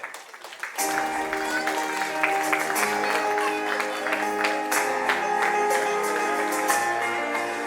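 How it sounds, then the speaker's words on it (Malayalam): An audience at a celebrity cricketers' event applauds a memento presentation, with sustained clapping over a tonal backing after a quiet start. "ഒരു വലിയ കൈയടി കൊടുക്കാം"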